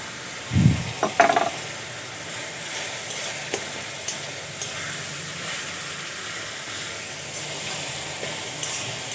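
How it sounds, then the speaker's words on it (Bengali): Onion paste masala with ginger paste frying in a pan for egg poach curry, a soft steady sizzle with a couple of clear knocks near the start, then quiet continuous hiss. "আমি আরও কিছুক্ষণ ভালো করে ভেজে নেব যতক্ষণ না কাঁচা গন্ধটা যাচ্ছে ততক্ষণ ভেজে নিতে হবে"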